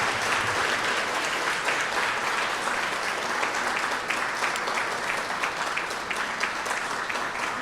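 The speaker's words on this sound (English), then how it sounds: "One more round of applause for Ignacio." Audience applauding after Ignacio Darnau's lecture on queer art history, a loud, dense wash of clapping that stays sustained and even from start to finish.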